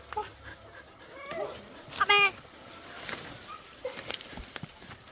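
A dog gives a brief whimpering yelp amid outdoor background noise, one short, fairly near cry in a rural roadside setting, with no clear talk.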